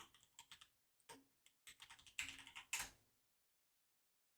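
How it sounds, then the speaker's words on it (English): Computer keyboard typing during a sports card group break, a burst of quick uneven key clicks building to a louder flurry before stopping, close and alone with no voices. "I just got to bring the mouse out and type in a magical phrase"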